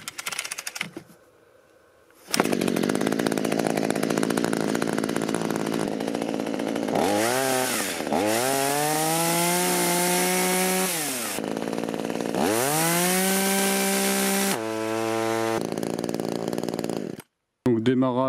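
Parkside petrol chainsaw from Lidl being pull-started: sharp rope-pull bursts, then the two-stroke engine catches and revs loudly in rising and falling surges, cutting out briefly between runs, close and dominant.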